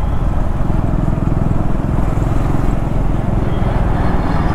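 A Triumph Scrambler 400X motorcycle rides with a loud, steady engine drone and wind rush, the tone holding fairly even throughout with no clear braking change.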